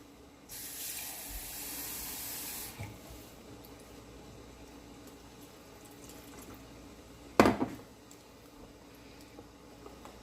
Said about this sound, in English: So I'm going to add some more water.